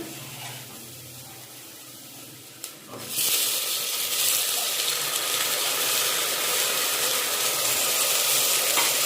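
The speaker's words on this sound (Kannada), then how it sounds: "ಈರುಳ್ಳಿ ಎಲ್ಲ ಫ್ರೈ ಆದಮೇಲೆ ಟೊಮೊಟೊ ಹಾಕೋತಾ ಇದ್ದೀನಿ" Tomatoes are tipped onto fried onions in a hot pan; a quiet background gives way around the three-second mark to a loud, steady sizzle that stays strong and continuous to the end, with no talking.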